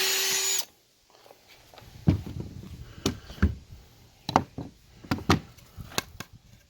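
A power drill drives screws into wood for a chicken coop with a short loud whir at the start, followed by scattered knocks and thumps of wood and tools being handled nearby.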